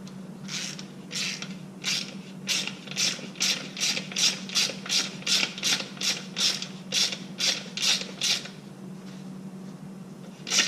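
A 1/4-inch drive ratchet clicks steadily while tightening a Jims 5518 bushing tool on a Harley Touring shift lever, a close run of about twenty evenly spaced ratcheting strokes over a low steady hum, with no talk.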